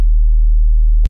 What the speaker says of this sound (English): You have this first sine wave